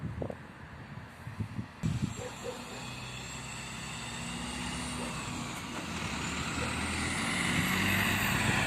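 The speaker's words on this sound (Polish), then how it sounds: "Pierwsza ciężaróweczka, man biały" A heavy white MAN truck rumbles past steadily, its engine noise swelling as it nears, with a brief hiss of air brakes early on.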